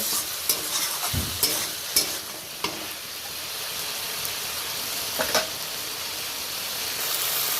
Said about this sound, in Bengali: টমেটোটাও কিন্তু খুব সুন্দরভাবে একদম নরম হয়ে গেছে করতে করতে